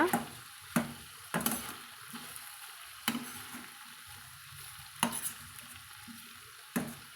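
Chicken pepper fry with coriander being turned and pushed around a hot pan, with a faint, steady background sizzle broken by sharp scraping and clattering strokes of the spatula every second or two, no voices.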